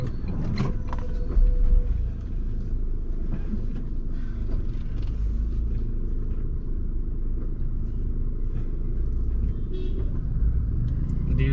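Car turning slowly on half clutch through city traffic, a low steady engine rumble with mechanical clunks and surrounding street noise, continuous and close.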